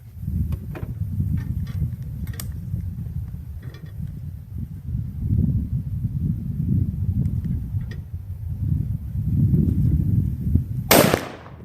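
Rifle shots from a Bear Creek Arsenal 6.8 SPC upper at an outdoor range: a faint crack early on, then one loud, sharp report near the end, over steady low wind rumble.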